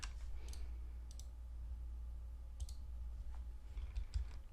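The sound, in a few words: computer mouse right clicks in Vegas Pro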